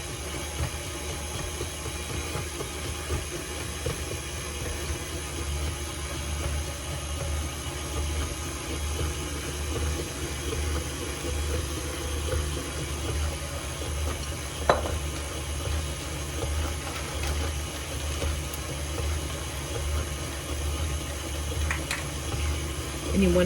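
Dry ingredients being mixed into keto brownie batter, heard as a continuous mechanical drone that stays steady throughout, with a faint tap near the middle and another at the end.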